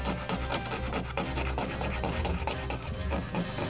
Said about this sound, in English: I'm constantly turning and changing the angle and direction of which I'm sanding.